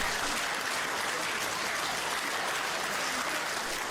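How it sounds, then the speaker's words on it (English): A London audience at a Jimmy Carr stand-up show breaks into sustained applause, an even, continuous roar of clapping heard from a distance. "Really, London? Really? A round of applause?"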